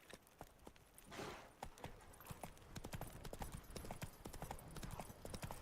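A horse gallops in The Witcher 3 video game, quick steady hoof clip-clops pounding throughout at close range, with a brief rushing swell early on.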